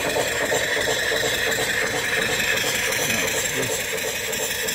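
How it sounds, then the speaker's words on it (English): A newly built antique-style mill steam engine with 3-inch bore and 4-inch stroke runs smoothly and steadily, giving off a continuous close mechanical chuffing hum with a light rhythmic rattle. "That's probably the sweetest running engine I've built in a long time."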